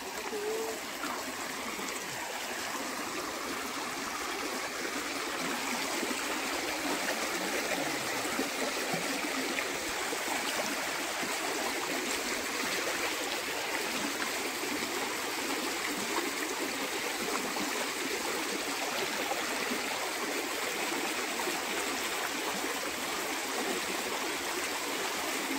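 A swollen rural stream in the Konkan region rushes strongly after rain, a steady, dense watery roar with constant splashing and trickling, close by and unbroken throughout.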